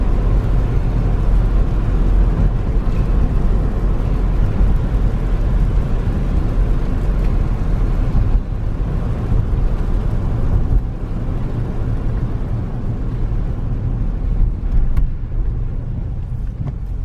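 A 2015 GMC Yukon Denali truck cruises down the road with a steady, loud rumble of road and engine noise and a constant whirring drone that stays even throughout.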